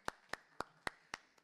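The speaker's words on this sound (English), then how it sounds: "Can we have a huge round of applause?" Slow, sparse hand claps at a dairy industry panel session, six distinct claps spaced evenly and fairly faint, with no crowd wash around them.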